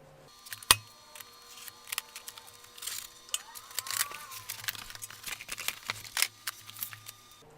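A cardboard box being opened by hand before a welding job, with close rustling, tearing and crinkling of cardboard and packing, sharp scrapes and a loud snap near the start, no talking.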